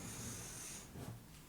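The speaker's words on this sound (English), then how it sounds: "I apologise for the dog snoring." A single drawn-out dog snore, soft and close, with a raspy rumbling breath that tapers off.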